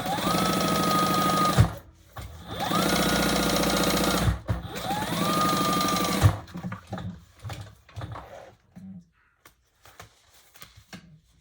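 A sewing machine stitches a tote bag in three sustained, close runs with brief pauses between them. Quieter clicks and handling noises follow as the machine stops.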